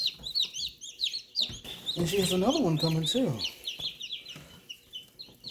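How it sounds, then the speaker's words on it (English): Polish hens and their chicks cluck and peep in a garden, a steady mix of soft clucks and chirps, with a person speaking over them in the middle. "That's the Polish hen's little girl."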